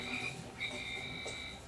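A frog enemy in the Pikmin video game gives a quiet, sustained croaking call, a steady buzzy tone that pauses briefly and resumes, with no talking over it.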